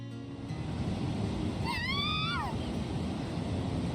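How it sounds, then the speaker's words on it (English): Ocean waves roll and rumble inside a cave in a video game, a broad, steady wash of surf close by, with a brief rising-and-falling tonal cry sounding over it midway. "they can hear the echoes of the waves"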